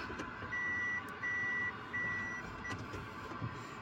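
A 2019 Toyota Voxy's reversing warning beeps three times in a steady pattern after the gearshift goes into reverse. The tones sit over the low hum of the idling engine, with a short fourth chirp starting as the clip ends.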